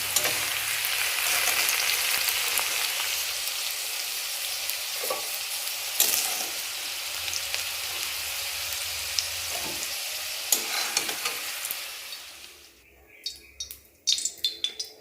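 Mixed vegetables with capsicum fry in oil in a cooking pot and are stirred. A steady, close sizzle carries knocks and scrapes of the spoon throughout, then quietens near the end, leaving a few sharp clinks.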